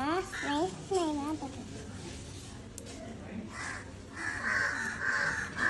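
A crow caws a few times in harsh, rising calls near the start, with a voice and background chatter underneath.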